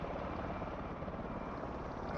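A tiltrotor-style aircraft in helicopter mode in a flight video game, a steady rotor whir and engine drone that holds at an even level with no talk over it.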